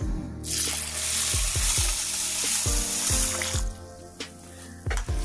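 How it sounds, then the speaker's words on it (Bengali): Water poured into a bowl of soaking raw rice and black gram lentils, a loud steady splashing rush that fades after a few seconds, with clinks and knocks of grains shifting against the bowl. "এবারে এর মধ্যে আমি জল দিয়ে দিচ্ছি।"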